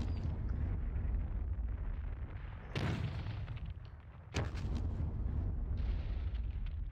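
Mortar rounds exploding in the wargame Squad Battles Red Victory at Ponyri: two sharp blasts a couple of seconds apart over a steady low rumble, fairly faint and distant-sounding, with no talk.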